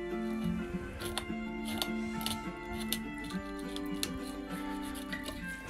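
Knife cutting a fish fillet along the spine, a run of crisp ticking and snipping clicks over a faint steady hum, close and quiet.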